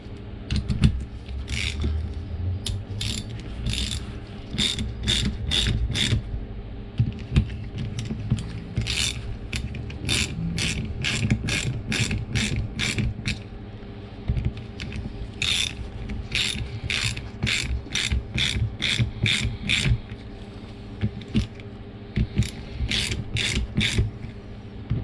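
A ratchet clicks in repeated bursts of rapid pawl ticks while tightening bolts on a Z22YH high-pressure fuel pump, with short pauses between strokes over a low background hum.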